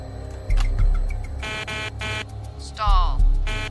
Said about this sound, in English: Can we get the stall warning to sound?